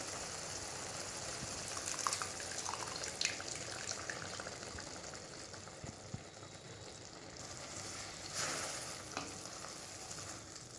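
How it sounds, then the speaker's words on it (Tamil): Grated pumpkin sizzles and sautés in a pan while cooking down for halwa, a steady close frying hiss with occasional stirring scrapes throughout. "நல்லா வதக்கிக்கோங்க."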